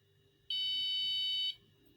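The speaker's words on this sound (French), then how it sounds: "le système d'alarme va déclencher" An Arduino temperature alarm on an autoclave sounds a single shrill electronic beep for about one second, loud and steady, over a quiet low background hum.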